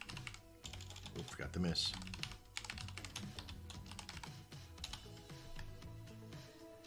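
Quiet typing on a computer keyboard, with a run of soft, irregular key clicks while a person speaks briefly over them.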